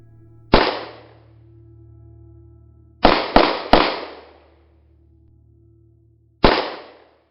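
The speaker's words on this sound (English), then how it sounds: "5 shots fired, a subject aims pistol at something not visible on camera" Five sharp pistol shots ring out, loud and close: one, then a quick burst of three, then a last shot after a pause, each with a short decaying tail over a low steady hum.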